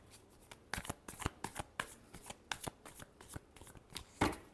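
Tarot cards are shuffled by hand up close, giving a run of crisp, quick riffling slaps and flutters in an uneven rhythm, with a final firmer burst as the deck is squared.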